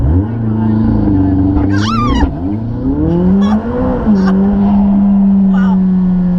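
A McLaren sports car launches hard under launch control, its engine roaring close and loud as the revs climb and shift through gears, with excited voices and an exclamation over the engine noise.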